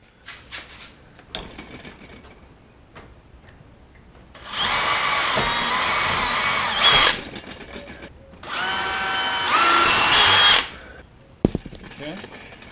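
A power drill deburrs metal during an LED light install on a 2016 Toyota Tacoma, running in two steady whining bursts of a few seconds each, close and loud, with clattering handling sounds before and after.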